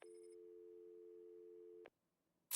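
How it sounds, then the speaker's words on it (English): A telephone rings in a Batman video game, a steady electronic tone holding for nearly two seconds before cutting off, followed by a brief pause and a loud burst of noise. "There's a phone ringing somewhere."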